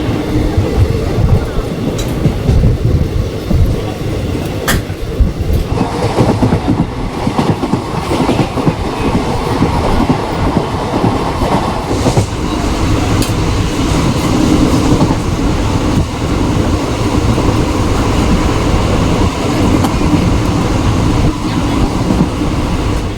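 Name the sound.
train departing station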